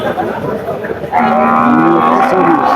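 A bull lows loudly at a busy cattle market, one long sustained moo rising over the crowd's background chatter and noise.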